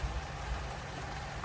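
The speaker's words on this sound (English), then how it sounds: "hopefully you can hear it. Lovely rain." Steady rain falls outside a garden shed, a soft, even patter of drops on surfaces that holds at one level throughout, with no voices.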